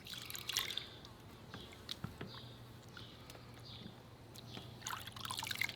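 Water trickling and dripping softly as an old glass bottle is filled and sunk in a basin, with faint gurgles and small splashes over a low hum and no talking.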